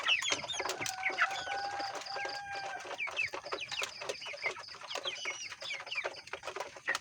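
Forty-five-day-old broiler chickens cluck busily while eating, a close, steady flock of overlapping short clucks and chirps with no voices.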